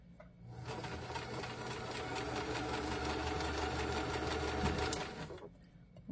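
A sewing machine runs steadily for about five seconds while stitching a tiny fabric tube with back stitch, its rapid mechanical chatter close and continuous, starting and stopping cleanly with quiet before and after.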